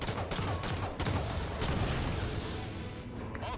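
Loud, dense volley of weapon fire in Halo 5: Guardians, rapid overlapping shots and booms filling the whole stretch without pause.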